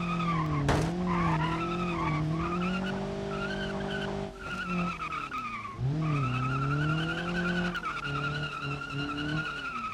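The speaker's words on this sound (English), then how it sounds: "just do a big burnout, I guess" In the BeamNG driving game, a car with an open differential does a long burnout. Its engine holds a strained, wavering note under continuous tire squeal that dips briefly midway and then resumes loud and close.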